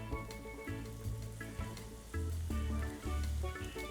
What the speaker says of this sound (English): I'm going to start lowering those down into the oil